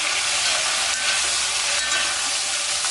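Tomatoes stirred and frying in a pan for Chettinad fish curry, giving a steady, loud, close sizzle with faint scraping from the stirring.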